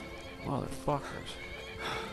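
A horse whinnies twice in the video game Skyrim, short bursts with faint hoof clops, while someone talks over it.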